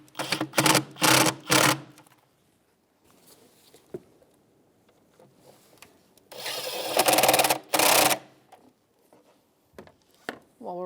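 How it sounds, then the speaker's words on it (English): A 10mm socket wrench tightens bolts on the engine of a 1999-2004 Jeep Grand Cherokee during an ignition coil boot replacement, producing close, rapid ratcheting bursts separated by short pauses and scattered light clicks. "you can tighten them up. That's a 10mm socket or wrench."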